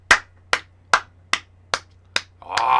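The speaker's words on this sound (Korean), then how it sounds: "와, 박수." Six sharp, evenly spaced hand claps ring out close by at a billiards table, slow and deliberate like a single person's applause, followed by a brief swell of a louder, sustained sound.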